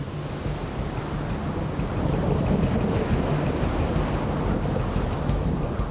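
Ocean waves churn along the southern shore of the Arabian Peninsula at the start of the monsoon, a loud, continuous roar of surf mixed with wind buffeting, with no voices.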